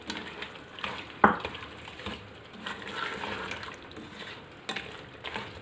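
Ridge gourd (turai) is stirred into cooked meat in a pan, a soft sizzle under scraping and stirring with a sharp clack of a spoon against the pan near the start and a few later knocks.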